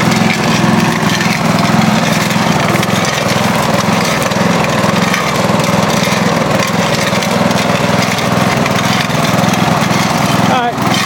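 A running Briggs & Stratton lever-control lawnmower engine, recently freed from a seized state, drones loudly and steadily with loose nuts rattling inside, a continuous close mechanical clatter throughout.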